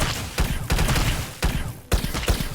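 Guns blasting in the space extraction shooter VR game Astro Hunter, loud rapid bursts of fire in several volleys separated by brief pauses, close and dominant with no talking.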